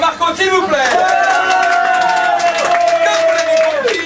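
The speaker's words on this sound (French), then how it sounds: "Allez, on applaudit encore Marco" Audience cheering and applauding Marco at Laetitia's 30th birthday party, a loud sustained burst of clapping and whoops, with a rising vocal tone carried over the crowd noise.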